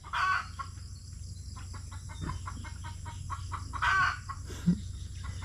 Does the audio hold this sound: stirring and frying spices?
no